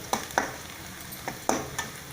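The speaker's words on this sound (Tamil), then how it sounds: "வெங்காயம் நல்லா வணங்கிடுச்சு." Onions fry in a pan for a gram flour kurma, heard as a soft sizzle under several sharp stirring scrapes spaced a fraction of a second apart, close and without speech.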